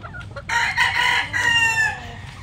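A schooling line gamefowl rooster crows once nearby, a loud, drawn-out call in two strained bursts that trails off, with faint farm background and no talk.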